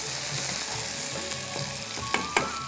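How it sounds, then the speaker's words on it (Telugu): Tomato pieces dropped into a frying curry and stirred, producing a loud, continuous sizzle with a few sharp utensil clicks toward the end and no talking. "ఇదిగో టమాటా ముక్కలు వేసేస్తాం"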